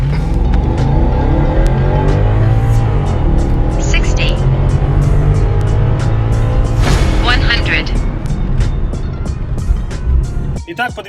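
BMW E53 X5 4.8i with the N62 V8 and sport headers accelerating hard from 0 to 100 km/h, a loud sustained engine roar rising through gear changes, heard from inside the car with faint ticking over it.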